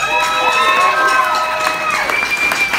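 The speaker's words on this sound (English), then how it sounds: "big round of applause to him" Audience cheering and whooping at a band's final show, a steady crowd roar with shouts rising above it throughout.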